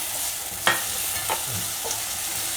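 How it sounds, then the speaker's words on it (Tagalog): Onion, garlic and tomato sautéing in a hot pan, a steady soft sizzle with a few sharper clinks and scrapes of stirring, moderately close and without talk. "igisa lang natin sibuyas, bawang, yan."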